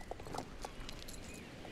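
Horse hooves clip-clop in Star Stable Online during a ride, a few faint, quick hoofbeats in uneven rhythm over a low, soft background, with no voices.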